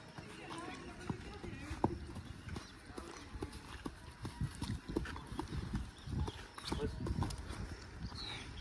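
Horse hooves clip-clop in a quick, uneven rhythm over a noisy outdoor background, steady and fairly close throughout.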